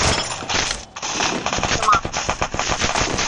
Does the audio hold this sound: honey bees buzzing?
no